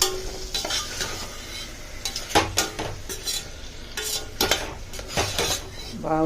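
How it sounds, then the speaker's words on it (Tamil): Vegetables for veg biryani are stirred and sautéed in a pan, with a spoon scraping and clinking against the metal in irregular strokes. A soft frying sizzle sits underneath, all heard close up with no talking. "இப்போ இந்த காயெல்லாம் போட்டாச்சு. இதை சும்மா ஒரு வதக்கிட்டு"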